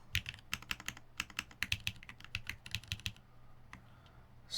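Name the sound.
typing on tactile keyboard switches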